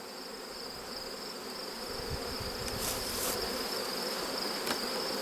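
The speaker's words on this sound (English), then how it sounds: "And they got bees in them too." Honey bees buzzing around nuc boxes in an apiary, a steady dense drone of many insects close by, with occasional louder individual bees passing near.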